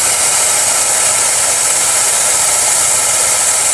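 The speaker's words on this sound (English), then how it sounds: "The fan speed is definitely ramped up." 2010 Kia Forte heater fan blowing at high speed, a loud, steady, even rush of air that stays constant throughout, heard close with no talking.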